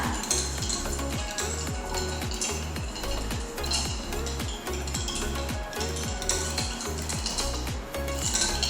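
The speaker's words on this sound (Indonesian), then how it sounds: "Kita aduk sampai dia larut garamnya." Dirty salt stirred into water until it dissolves, a steady rhythmic scraping and clinking of a utensil against a container repeating about every half second, close and continuous with no talk.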